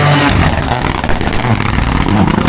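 A rally car engine roars loud and close, with a steady gritty drone and small surges in pitch, during Rally Queensland in the Gympie forests.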